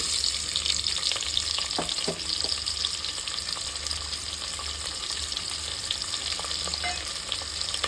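Onions sautéing in a pan for vegetable biryani, a steady close sizzle and crackle of frying with occasional faint clinks of stirring, continuous throughout with no talking.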